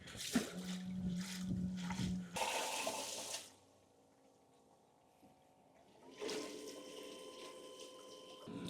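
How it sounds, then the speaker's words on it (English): Water circulating in a Hydragun Supertub cold plunge tub gushes and churns loudly, drops to a quiet hum in the middle, then surges back into a steady rushing flow. "So now we see that the water is circulating."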